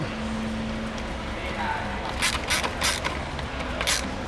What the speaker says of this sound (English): take your 10mm ratchet spanner and your 4mm Allen key or Allen screwdriver, whatever you want to call it, and tighten those up